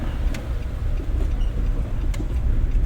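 A learner car rolls along steadily during a driving lesson at a driving school, its engine and road noise forming a continuous loud rumble close by, with faint higher clicks and no clear talk.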